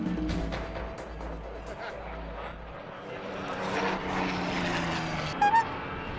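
Propeller aircraft flying aerobatics at an air show, a steady droning engine roar swelling and fading at moderate distance with some background bustle.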